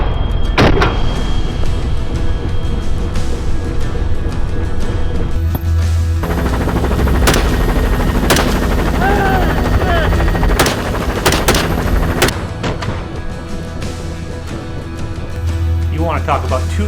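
Several sharp gunshots crack out during a helicopter hog hunt in Texas, some in quick pairs, over the loud constant thrum of the helicopter's rotor and engine.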